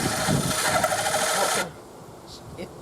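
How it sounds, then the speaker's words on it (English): A hand drill runs at full speed as its hole-saw teeth bite into a piece of wood, a close, steady raspy whir for about a second and a half before cutting off, leaving faint room noise. "So get the drill going full speed."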